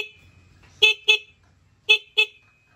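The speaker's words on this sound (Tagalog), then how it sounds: "Meron na rin busina." Horn on a motorcycle sounding four short honks in two pairs, each loud and close with a bright buzzing tone, separated by quiet idle.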